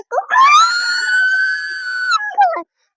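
A child imitates a rooster's crow, one long drawn-out high-pitched call that holds steady, then a short falling tail, close and loud.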